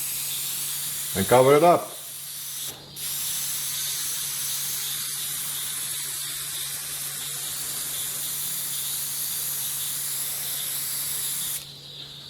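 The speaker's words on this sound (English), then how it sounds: "I'm just going to use my little airbrush here with some black paint in it" A small airbrush sprays black paint as a steady, close hiss that runs almost unbroken for about ten seconds, with a short burst of speech just before it starts.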